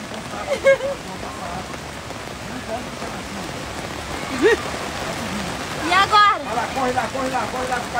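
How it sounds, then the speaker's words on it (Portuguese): Heavy rain pours down in a steady, dense hiss during an outdoor outing by bicycle with a child, while excited voices exclaim over it. "Tá chovendo muito!"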